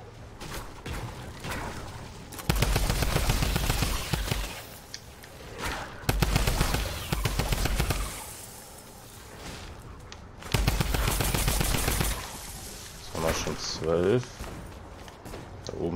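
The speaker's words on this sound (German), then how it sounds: "Da oben schießt noch irgendeiner rum." Bursts of automatic gunfire from the video game Fortnite come in loud, sustained volleys during a horde elimination challenge, separated by quieter stretches with footsteps and someone talking over the game.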